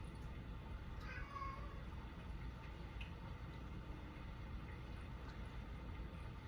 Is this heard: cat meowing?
yes